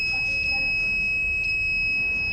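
An anti-sleep alarm's electronic buzzer sounds a steady high-pitched continuous tone, close and loud, holding unbroken over faint background noise.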